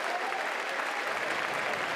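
Steady applause from a college baseball crowd, a broad even clatter of clapping hands lasting the whole stretch at moderate distance with no voices on top.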